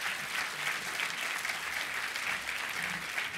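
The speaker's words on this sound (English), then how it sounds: "So round of applause to welcome Julie onto the stage" An audience at an ad tech conference applauds to welcome a keynote speaker onto the stage, producing steady, even clapping from a large crowd, heard at moderate distance and without talk.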